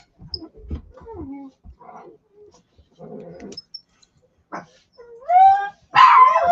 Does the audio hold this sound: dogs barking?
yes